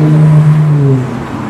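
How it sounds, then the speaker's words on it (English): A loud car passes close by, its low engine drone steady then dropping and fading within a second and a half. "there's a loud car passing by"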